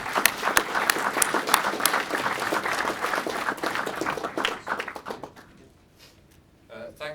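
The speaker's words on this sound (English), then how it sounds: "So I ask you to cheer them in the usual way." Audience applause after a speech on UK manufacturing fills the room, dense clapping that tapers off, followed by a brief speaking voice near the end.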